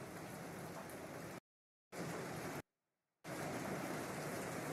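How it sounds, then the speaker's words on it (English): Rain sounds played from a device, rain drumming on a tin roof, a steady dense hiss that cuts out abruptly twice and resumes at the same loud level. "I'm going to do rain sounds, rain on a tin roof."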